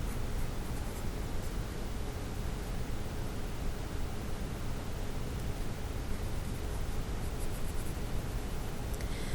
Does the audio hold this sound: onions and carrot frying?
no